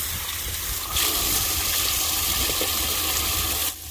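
Cold water gushes into the overheated engine of a Jeep Cherokee, a continuous rushing pour that swells after the first second and holds steady before easing off, with no voices.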